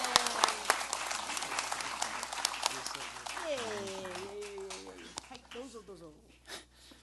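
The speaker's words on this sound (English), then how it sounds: "Give him a round of applause as you bring him out." An audience applauds at the 13th Annual Imagine Little Tokyo Short Story Contest awards ceremony. A dense wash of clapping fills the first few seconds, then thins under a voice speaking and fades toward the end.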